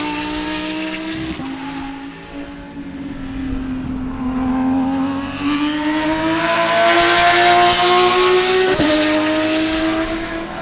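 Spec Corvette race cars roar past on the Sebring track, engines loud and close, rising and falling in pitch as one car and then the next sweeps by.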